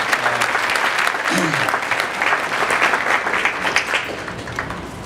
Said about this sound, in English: how about another round of applause for Jason, Stacy, their staff to put this thing together